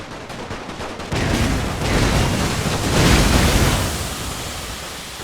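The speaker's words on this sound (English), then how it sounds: "Hand grenades. Get those grenades going." Dense, continuous roar of hand grenade explosions and rapid gunfire in a World War I strategy game, loud and sustained with no clear gaps.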